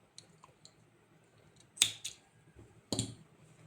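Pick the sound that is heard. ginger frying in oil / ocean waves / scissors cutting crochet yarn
scissors cutting crochet yarn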